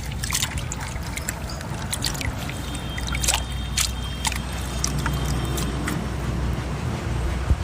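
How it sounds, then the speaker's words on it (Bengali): Adenium plant roots are washed under running water, making a continuous close trickle and splash with small drips and knocks over a low background rumble. "এবার আমি সবগুলো গাছ ধুয়ে নেব একটা একটা করে।"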